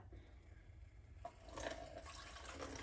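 Vinegar sloshed and shaken inside a nearly empty hot pepper mustard jar, a quiet liquid splashing that starts faintly and grows busier after about a second, continuing steadily to the end.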